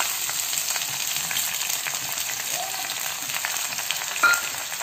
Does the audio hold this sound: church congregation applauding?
no